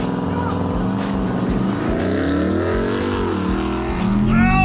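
Ram TRX and Rivian R1T pickup trucks launching side by side in a drag race, a loud sustained engine roar climbing steadily in pitch as they accelerate, with excited shouting over it.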